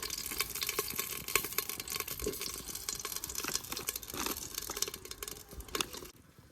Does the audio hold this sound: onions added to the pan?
yes